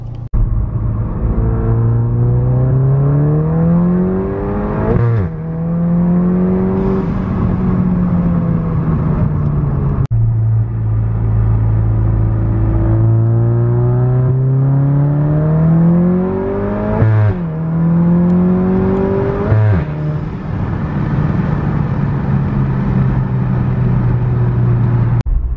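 A car revs and accelerates hard on solo pulls, its loud engine tone climbing through repeated gear sweeps, dropping at each shift and rising again, sustained and close for the whole stretch with no talking.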